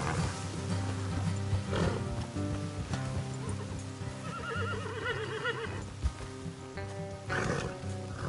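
Horses neighing and whinnying in the Western video game Red Dead Redemption 2, several shrill calls rising over a low rumbling game soundscape, with no talk.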